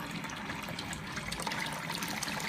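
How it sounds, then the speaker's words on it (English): Water running through a Leak Guardian motorized ball valve assembly on a working display and out of a spigot, a constant trickling, hissing flow at steady level with no speech. "you can actually see that water flowing through our Leak Guardian motorized ball valve assembly"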